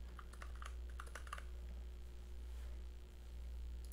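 An encryption password is typed on a computer keyboard, with quick clusters of soft key clicks in the first second and a half, followed by a faint hum.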